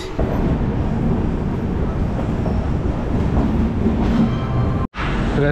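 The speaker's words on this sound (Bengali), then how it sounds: "আমাদের ট্রেন ঢুকে গেছে।" A Humsafar Express train arriving at a station rumbles steadily close by, a dense low roar of wheels and rail noise that fills the scene, briefly cutting out near the end.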